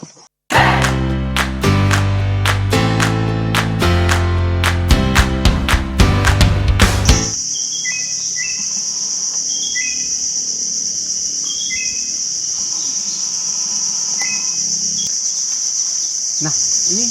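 Loud piano-like music plays first, then a greater racket-tailed drongo calls alone in repeated short metallic whistles over a constant high insect drone.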